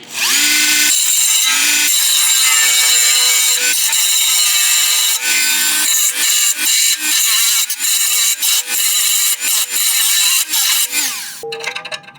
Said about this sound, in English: And I'm going to use this little grinding wheel I haven't used in a while.